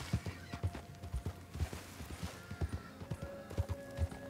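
A blue-coated horse in Red Dead Online clip-clops along in a steady walking rhythm, hoof strikes close and distinct, with faint game ambience and tonal hums underneath.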